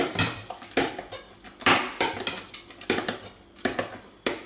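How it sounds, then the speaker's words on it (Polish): A spoon scrapes and knocks against a bowl while mixing a thick no-bake cake mass for a Stokrotka cake. Fairly loud, rhythmic strokes repeat about once per second, with no talk. "I masę mieszamy."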